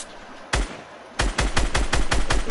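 Gunfire in the video game Fortnite: a single loud shot, then a rapid rhythmic burst of automatic fire, close and punchy.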